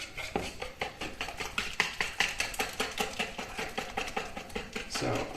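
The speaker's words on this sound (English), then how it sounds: "So I'm using a hand whisk" A hand whisk beats pancake batter of eggs, milk and flour in a bowl, giving a fast, steady run of close, bright clicking taps against the sides, loud and regular throughout.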